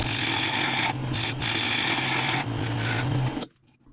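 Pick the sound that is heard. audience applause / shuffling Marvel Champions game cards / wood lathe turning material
wood lathe turning material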